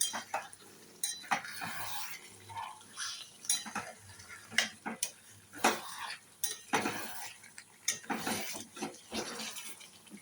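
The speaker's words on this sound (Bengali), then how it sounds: "এবার আমি একটু নেড়ে নেবো।" Mutton curry being stirred in a pan, with repeated clinks and scrapes of a metal spoon against the pan in an irregular rhythm, close up, with no talking.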